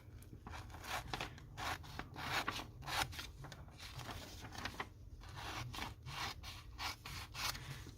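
Scissors cut paper for a glue book art journal, a close, quiet rasping repeated in short strokes with brief pauses between them.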